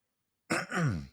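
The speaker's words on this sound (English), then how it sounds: "I hate clearing my throat on the mic" A single short throat clearing, close and fairly loud, after a moment of silence.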